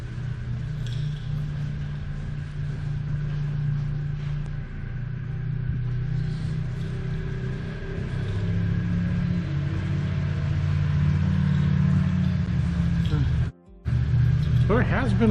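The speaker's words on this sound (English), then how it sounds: "There has been a lot of traffic." Traffic rolling along the loop road of Cades Cove in the Great Smoky Mountains in fall, a steady low rumble of passing car engines that holds throughout, with a brief cutout near the end.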